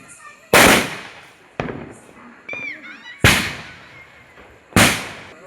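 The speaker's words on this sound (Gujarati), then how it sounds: "તો જો આપણે મિર્ચી બોમ્બ ફોડશું." A mirchi bomb firecracker bursting during Diwali, with three sharp, loud, close bangs spaced a second or more apart, a faint whistle in between, and some talk in the background.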